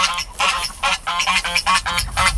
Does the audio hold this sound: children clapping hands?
no